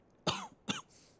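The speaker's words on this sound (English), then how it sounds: "I have this little cough, like I said, triggered by my allergies." Two quick, close coughs from a man with allergies come a fraction of a second apart against an otherwise quiet background.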